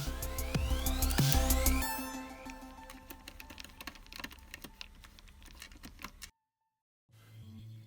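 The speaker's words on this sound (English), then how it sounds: "Let's take the front panel off so we can give it a better cleaning." Front panel being pried and lifted off a Sinclair Spectrum +3 disk drive: close, scattered plastic clicks, snaps and taps, busier at first, then thinning out before a brief silence and a few final soft knocks.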